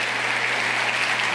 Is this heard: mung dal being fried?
no